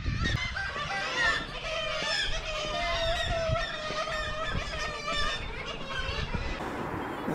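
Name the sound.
seagulls calling in a fishing village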